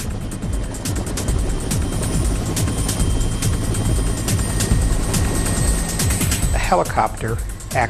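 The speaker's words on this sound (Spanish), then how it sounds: "Desde un helicóptero llevaron el extremo del cable desde el anclaje a la primera torre." A helicopter drones loudly and steadily nearby, its rotor chop pulsing throughout, while someone speaks over it; the helicopter was used to carry a cable end between a bridge anchorage and the first tower.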